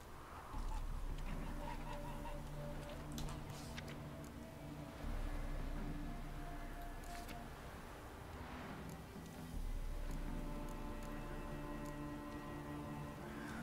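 Geese honking in The Witcher 3 game world, scattered calls over a steady droning ambient bed with low tonal hum, moderately distant and fairly faint.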